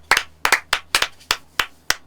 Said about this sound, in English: Round of applause for Marcus Rashford